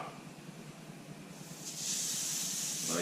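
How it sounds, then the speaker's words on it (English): Thick pork chops dropped into a hot pan on the stove, a quiet steady hiss of searing that swells into a louder, brighter sizzle toward the end. "Nice little sizzle."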